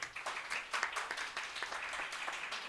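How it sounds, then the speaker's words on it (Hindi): An audience at a paper reading session applauds in a faint, steady patter of many hands clapping, heard at a distance and continuing throughout with no voices over it. "एक बार हम सब अपने लिए जोरदार ताली बजाएं।"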